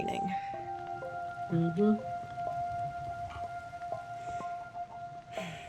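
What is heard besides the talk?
rain falling, from a video game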